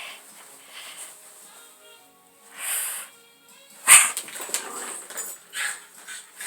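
A young dog named Snickers plays with a ball, giving soft whimpers, yips and short barks in scattered bursts with a sharp thump near the middle, close by and without talk.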